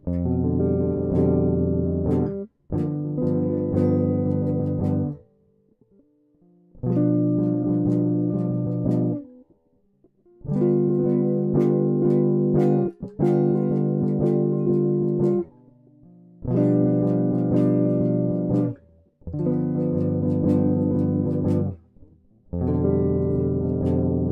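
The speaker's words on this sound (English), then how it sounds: "Now we're going to get right to the bottom 4 string chords that sound" Strummed guitar chords on the bottom four strings ring out in short sustained bursts, separated by brief pauses, played alone with no talking.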